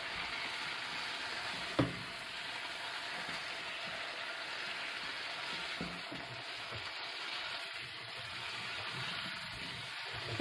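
Vegetables with spices cooking in a pan over the highest heat for a vegan Indian Ocean-style anchar, giving a steady, faint sizzle with a few soft clinks and stirs, with no one talking.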